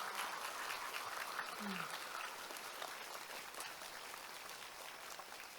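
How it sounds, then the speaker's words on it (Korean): An audience applauds after a temple bell ringing and a Korean traditional dance performance at a public striking of the Seongdeok Daewang Sinjong bell. The clapping is steady and continuous, fairly distant in a large space. "다시 한번 큰 박수 부탁드리겠습니다"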